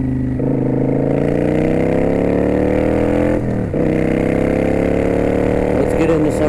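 A Kawasaki Vulcan 900 Custom Special Edition motorcycle engine drones loudly and steadily while riding, its pitch rising and falling with throttle changes, with a brief dip midway as the rider shifts.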